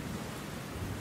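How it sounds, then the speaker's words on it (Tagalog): Heavy rain pouring down as a dense, even hiss of steady downpour with a low rumbling undertone, continuous and without any voices. "Ang lakas ng ulan"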